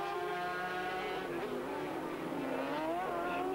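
Racing sidecar outfits on the Paul Ricard circuit at a 1991 world championship round, engines braking then revving hard and flat out, a loud continuous howl with rising pitch sweeps.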